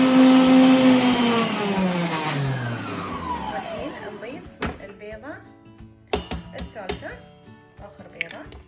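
An electric mixer beating eggs into date caramel cake batter gives a loud, steady motor whine that drops in pitch and winds down, followed by scattered clinks and bumps.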